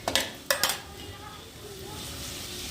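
Tomatoes are stirred into fried ginger and garlic in a pan. A few sharp metallic clinks of a spoon against the pan come first, then a steady, soft sizzle of frying.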